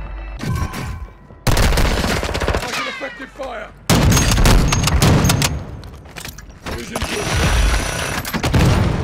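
Call of Duty gunfire in a busy in-game firefight, loud bursts and shots layered with game effects and music, dense and continuous with brief gaps, under faint game voice lines.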